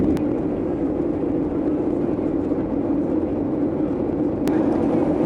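Steady broadband roar of a Qantas airliner cabin in flight, a continuous loud drone with no breaks and only faint clicks near the start and end.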